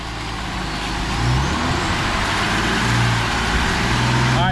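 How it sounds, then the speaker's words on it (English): A Jeep Wrangler engine held at raised revs during a Seafoam treatment, a steady loud rumble with a slight swell midway, no talking. "Rev it up."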